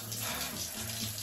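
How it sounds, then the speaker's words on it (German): Cold shower running, a steady broadband hiss of water spraying and splashing, fairly close and continuous without pause, with faint low tonal hum beneath. "Ich muss einfach 13 Minuten kalt duschen."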